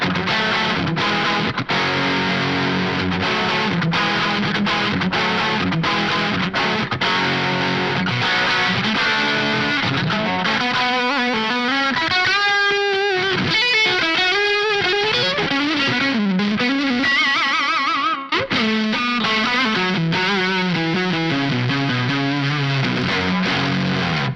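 A warm, thick overdriven electric guitar on the neck pickup, through a Line 6 Helix crunch tone, plays rhythmic chords and melodic runs, loud and up close, with a brief clean stop near the end.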